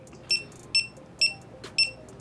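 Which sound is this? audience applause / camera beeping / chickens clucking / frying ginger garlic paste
camera beeping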